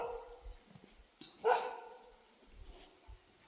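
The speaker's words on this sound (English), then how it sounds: "I hear a dog." Dog outdoors on a hike, a few short barks and yips at a distance, faint and scattered over quiet background rustle.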